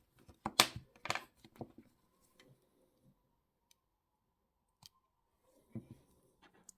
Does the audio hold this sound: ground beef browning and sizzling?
no